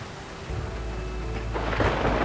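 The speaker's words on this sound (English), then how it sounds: "The snap of the thunder timed itself perfectly" Thunder rumbles and builds in a storm with steady rain, swelling louder toward the end, with no voices.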